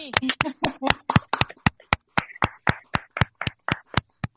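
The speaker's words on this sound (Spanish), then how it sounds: "Yo les daría un aplauso." Sharp, distinct hand claps ring out one after another in a roughly steady rhythm, close and clear, with a voice talking briefly near the start.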